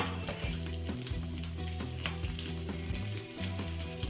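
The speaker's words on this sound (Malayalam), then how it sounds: "ഈ തേങ്ങ അതിലേക്ക് ഇട്ട് കൊടുക്കാം. തേങ്ങ നന്നായിട്ട് ഫ്രൈ ആവണം." Grated coconut fries in a pan for sambar masala, a steady crackling sizzle broken by regular scraping strokes of a spoon stirring it, close up with no voices.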